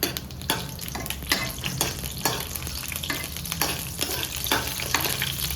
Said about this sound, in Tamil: காஞ்ச மிளகா, கொஞ்சோண்டு கடலப்பருப்பு, அது 2 லைட்டாக கலர் மாறணும்.